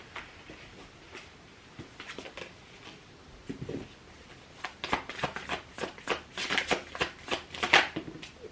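Tarot cards being shuffled by hand, a dry papery riffling that starts soft and sparse, then grows into quicker, louder bursts of flicking near the end, close and with no talking.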